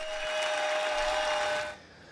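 A passionate crowd at a town hall meeting, a dense roar of applause and cheering that holds steady and then cuts off abruptly.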